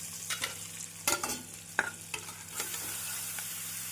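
Grated carrot sautéed with onions in a pan over medium heat, a soft continuous sizzle broken by several sharp clicks and scrapes of a spatula stirring against the pan, no voices.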